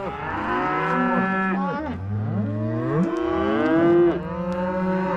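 Calves on a cattle farm moo loudly and close by, several long drawn-out calls overlapping one another with rising and falling pitch over a few seconds.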